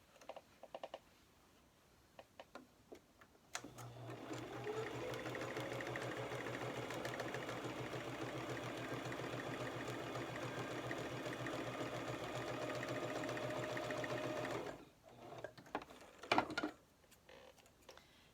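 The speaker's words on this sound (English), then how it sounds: "I want to stitch right below it so that it can't come out" Sewing machine stitching steadily just below a seam for about eleven seconds, a close, even mechanical whir with a low hum, with light handling clicks before and after.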